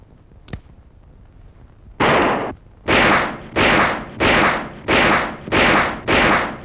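Gunshots ring out in a Telugu movie scene: one sharp crack, a pause, then six loud, evenly spaced blasts, each with a short echoing tail. No talk.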